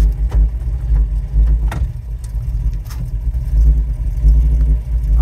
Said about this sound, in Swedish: Kallstart.